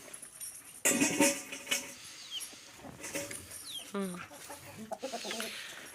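Hens cluck and squawk close by in short irregular bursts, with some faint background noise and a few other bird calls.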